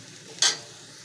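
Chopped onions, fried until reddish, sizzle in a pan as ground spice paste goes in, giving a single brief burst of hissing and stirring that fades quickly over a quiet background.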